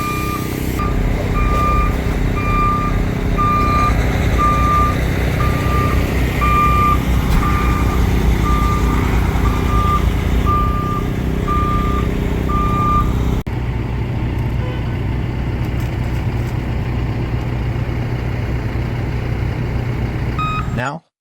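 Loud reversing beeps repeat at a steady rhythm over the deep rumble of a digger working in a hole dug to reach a broken water main; the beeping stops partway while the engine noise carries on.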